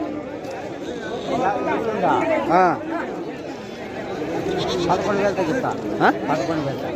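Sheep and rams bleating at a weekly sheep and goat market, with several close, wavering bleats rising over constant crowd chatter and nearby talk.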